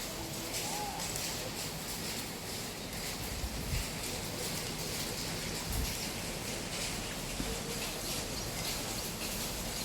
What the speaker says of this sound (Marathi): पुण्यात खूप पाऊस पडत आहे, बघू शकता खूप पाऊस आहे